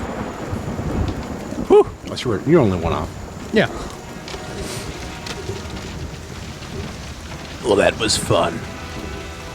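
A rain and thunder sound effect plays during a sci-fi tabletop role-playing session set on a jungle expedition. Steady rainfall runs under bursts of rumbling, with people chatting over it.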